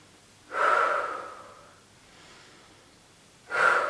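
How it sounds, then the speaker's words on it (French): Two deep, audible breaths during a gentle seated or standing gym routine for older adults, a long breath near the start and another about three seconds later, close and clear with quiet between them. "On n'oublie pas de respirer toujours."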